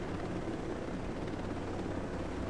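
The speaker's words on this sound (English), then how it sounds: "Shit, I thought you was in the helicopter." A helicopter in the video game Ghost Recon Breakpoint gives off a dense, steady rotor roar that fills the whole sound, loud and unbroken, with no voices.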